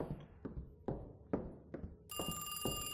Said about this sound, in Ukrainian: Телефон дзвони, най собі дзвони.